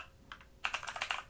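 Quiet keystrokes on a computer keyboard while a command is entered at a Windows command prompt, starting with a couple of soft taps and then a quick, close run of clicking keys.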